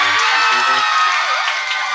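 A crowd cheers and claps loudly and steadily, with scattered shouts and whoops rising through the noise for the whole stretch.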